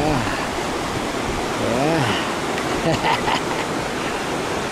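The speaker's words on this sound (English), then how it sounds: "Right alongside the creek here." A creek flows alongside a walking path, a steady broad rush of water running throughout, with a voice speaking briefly over it.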